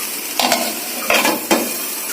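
Amaranth greens with garlic being stir-fried in a pan, a constant sizzle broken by a few sharp scraping stirs of a utensil against the metal, close and without talk.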